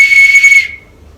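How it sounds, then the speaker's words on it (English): A copper bosun's whistle with its chain is blown once, a loud, close, steady high tone lasting about half a second before cutting off. "I've had a bosun's whistle in copper with its chain"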